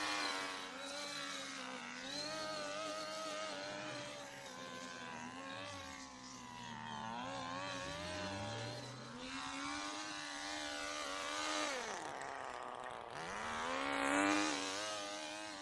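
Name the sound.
string trimmer running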